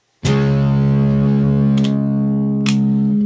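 An electric guitar on its single-coil neck pickup, played dry with no reverb or delay, rings out one loud sustained chord that decays slowly, with two faint pick scrapes or string noises partway through.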